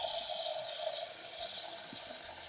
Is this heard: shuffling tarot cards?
no